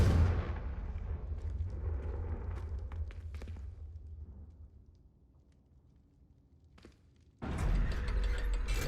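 The Confringo fire spell is cast in the game Hogwarts Legacy, landing as a heavy rumbling blast with mechanical clatter, then fading to quiet before a loud burst of noise returns at the end.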